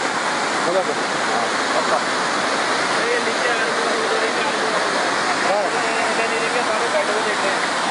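Floodwater rushes past at Sonprayag, Rudraprayag, as a steady, loud, broadband roar that holds for the whole stretch, with faint people's voices under it.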